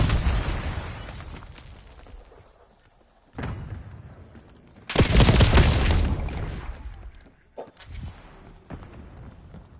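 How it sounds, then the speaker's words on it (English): Semtex grenade blast in a Call of Duty match: a heavy, loud explosive boom that rings out for a second or two, joined by other sharp game bursts and gunfire across the scene. "Ramming Semtex. Sending a Semtex."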